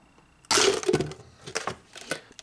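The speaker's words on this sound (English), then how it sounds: "Or I'm just smashing straight through this super brittle container." A brittle plastic container is smashed through in one loud cracking burst, followed by several smaller crunches and snaps, close by with no speech.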